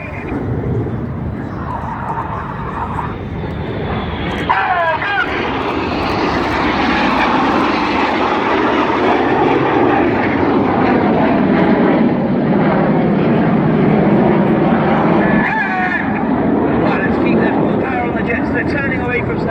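Red Arrows jets flying opposition barrel rolls at an evening airshow in Sunderland, a loud sustained roar that swells and holds for the whole stretch, with talk over the top.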